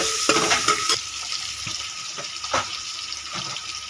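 Eggplant pieces sizzle in a hot pan while being stirred, a dense continuous frying hiss with repeated scraping strokes of a spatula, close up and fairly loud, no speech.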